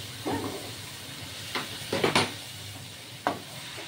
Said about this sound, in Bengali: দেখুন এই মাছগুলো দিয়ে আমি কষিয়ে তারপরে আমি জল দেব